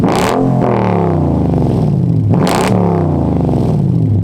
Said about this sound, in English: I took the rear mufflers off and also the resonators in the middle, and I just straight piped them